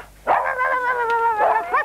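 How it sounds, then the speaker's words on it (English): A dog comes bounding in to round up sheep on a children's show set, letting out a drawn-out, whiny yelping bark that wavers in pitch, loud and close, with no talk over it. "Here comes the dog to round us up."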